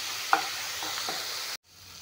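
Onion and green chilli paste sizzles steadily in a pan with spices, a spatula scraping once near the start; the frying hiss cuts out abruptly near the end and returns more faintly.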